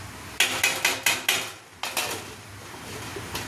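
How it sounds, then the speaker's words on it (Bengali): A metal lid settles onto a cooking pan of fried paneer masala, giving a rapid series of bright clanks, then a second burst of rattles after a brief pause, close and fairly loud. "এবার আমি এটা ঢেকে দিচ্ছি"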